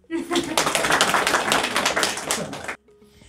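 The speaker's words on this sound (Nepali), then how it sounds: "मानव सरलाई जोरदार ताली" Enthusiastic audience applause at a Nepali DXN marketing-plan seminar, a dense burst of many clapping hands lasting under three seconds and stopping abruptly, loud and close.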